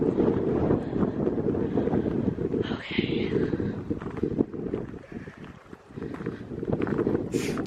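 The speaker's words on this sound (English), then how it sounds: "And I apologize, it is windy." Heavy wind buffets the microphone at night in the Yuma Territorial Prison Cemetery, with a constant low rumbling roar, loud and close; someone speaks one brief word over it.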